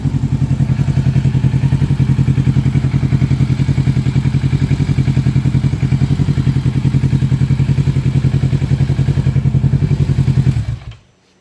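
A new motorcycle's engine runs loud and close with a steady, fast pulsing idle for about ten seconds, then cuts off abruptly near the end.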